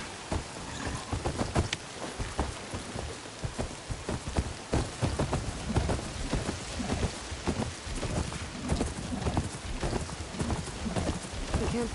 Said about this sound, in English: Rain's really coming down.